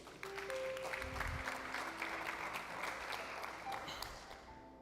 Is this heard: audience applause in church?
yes